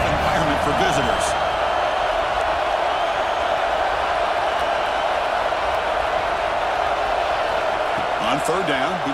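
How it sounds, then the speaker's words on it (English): A steady, dense roar from a stadium crowd at a college football video game runs without a break, with a commentator's voice rising over it. "Listen to the crowd energy here in the early going."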